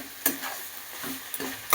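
Small shrimp being stirred and fried in oil in a pan, with a few sharp scraping clicks of the spatula over a soft, steady sizzle close by.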